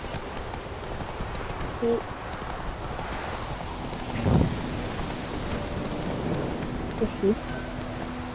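Horse hooves clip-clopping in rain in The Witcher 3, steady rainfall with a few distinct hoof thuds and a soft rumble, while a person speaks briefly.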